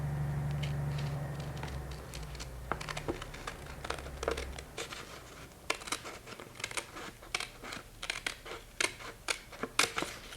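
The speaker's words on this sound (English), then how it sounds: "we'll cut a little slot from there on down on this piece" Scissors snip through a leather pattern piece up close, the sharp cuts speeding into a rapid run of crisp clicks and rustles after a brief low hum at the start.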